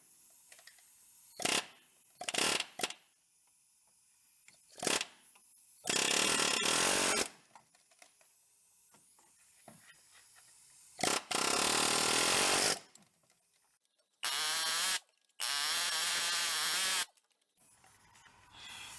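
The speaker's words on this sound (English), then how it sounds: "Let's go ahead and take it in an air chisel, see if we can split the nut and peel it off the bolt." Air chisel hammering at a seized nut on a bolt of a diesel Bobcat Toolcat side-by-side, in several loud, sustained rattling bursts of a second or more, separated by short pauses and single sharp taps.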